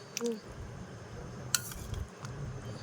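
A plate is set down among other dishes in a home kitchen in the Sundarbans, giving a couple of light ceramic clinks and knocks at close range with faint room noise between them.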